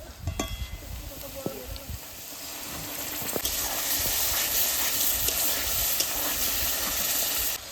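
Browned onions and spices sizzle in a pan for a Bengali mutton curry, with a steady broadband hiss that swells louder partway through, a few clinks and brief bits of talk early on.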